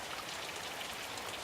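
Steady rain falls on a vegetable garden, a dense even hiss of drops with no pauses, moderately loud and close, with no voices.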